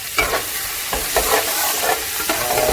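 Chopped garlic, ginger and whole green chilies fry in hot oil for a soybean curry, giving a close, steady sizzle with rhythmic scraping stirs of a spoon against the pan and no talking.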